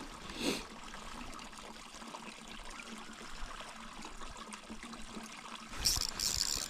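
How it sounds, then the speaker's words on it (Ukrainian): Water trickles and flows gently from a river into a pond in the background, soft and continuous, with a brief splash near the start and a louder rush at the end. "з річки тече вода в ставок"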